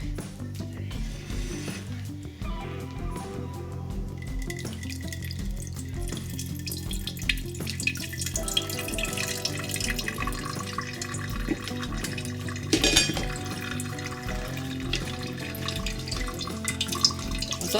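A kitchen utensil is rinsed under a running tap during home persimmon wine making, a steady, close water stream that splashes into a sink with a few clinks and knocks, and no talking.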